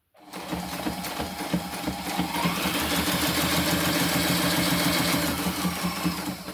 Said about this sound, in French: Donc, je couds direct sans point d'arrêt.